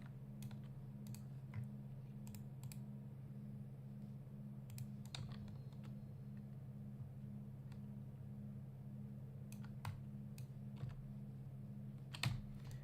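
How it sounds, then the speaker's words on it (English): Scattered, sparse clicks of keys on a mechanical keyboard during a World of Warcraft session. The taps come in short clusters over a steady low electrical hum, faint and close, with one sharper clack near the end. "It's been a while since I've run a mechanical keyboard."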